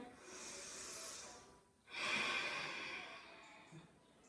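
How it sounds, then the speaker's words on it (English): Slow deep breathing while holding plank pose in a yoga flow, a long airy exhale, a short pause, then another strong breath close to the microphone, with no talking. "Breathing here."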